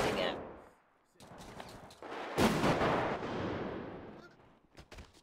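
Gunshots in GTA 5 roleplay, a few loud booming reports with long decaying echoes, followed by a sharp cluster of quicker shots near the end.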